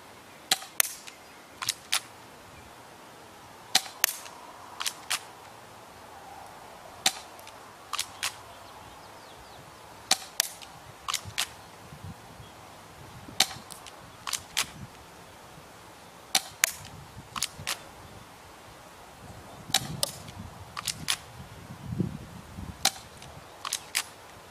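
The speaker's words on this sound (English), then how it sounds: "We're going to shoot that target down there" A UHC Colt 1911 spring airsoft pistol fires repeatedly at a target about 30 feet away, each shot a sharp, dry snap, spaced irregularly about a second apart across the stretch with quiet pauses between.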